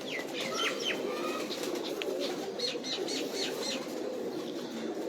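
Pigeons of an old breed coo and flap their wings on a rooftop, with soft cooing, chirps and wingbeats close by and steady throughout.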